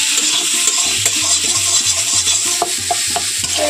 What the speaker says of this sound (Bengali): তো এইভাবে খুব ভালোভাবে কিন্তু নাড়াচাড়া করে নেব